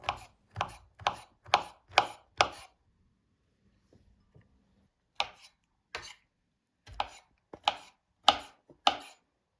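A knife chops mushrooms into small cubes on a cutting board: five quick sharp strikes, then a pause with faint rustling, then another uneven run of close, crisp chops.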